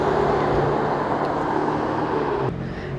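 Cars on a Monaco street, including a blue Ferrari 488 Spider and Lamborghini Huracans, a steady engine drone and traffic rumble at moderate distance that softens slightly near the end.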